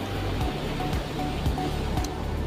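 Waves wash onto a beach in a steady, continuous rush of surf, moderately loud and close, with no voices heard.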